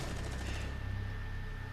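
Gunfire in a Rainbow Six Siege match, a continuous rapid burst of cover fire, faint and muffled, running the whole short stretch without a break.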